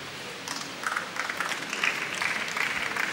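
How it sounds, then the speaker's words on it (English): Wedding guests clap together in a steady, dense patter that swells slightly and holds for a few seconds, with no voices rising above it. "If you want to clap, clap."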